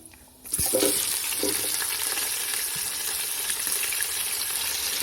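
Onions tossed into hot oil with fried garam masala for Punjabi chicken pulao hit with a sudden loud sizzle after a brief quiet start, then fry with a steady, dense crackle throughout.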